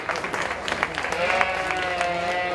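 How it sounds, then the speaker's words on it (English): A crowd claps in steady applause at a sheep show, dense and continuous, with a faint tone lingering underneath. "Let's give our parents a nice round of applause."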